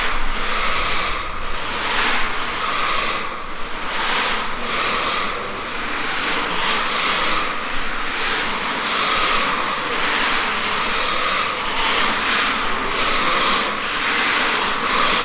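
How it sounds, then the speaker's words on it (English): Excess metallic flake is scraped off a freshly coated polyaspartic garage floor, heard as continuous rough scraping and rubbing strokes repeating steadily at close range. "they're scraping off the metallic flake so it's a smooth surface"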